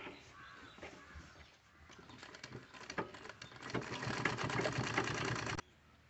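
A sewing machine stitches a drawstring party-wear wrist bag, starting with soft intermittent taps and building into a loud, steady, rapid whirr of stitching up close before stopping abruptly, with no talking.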